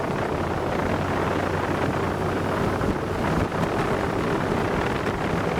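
A 2022 Grand Golden Line G650 RIB boat accelerating at speed produces a steady, loud roar of engine and rushing water buried in heavy wind noise across the whole stretch.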